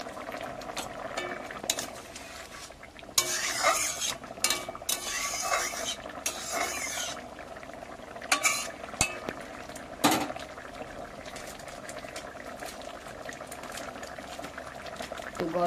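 Egg curry simmers in a pan as it is stirred with spices, with bubbling liquid, scraping of a spoon and scattered metallic clinks of cookware coming and going at close range.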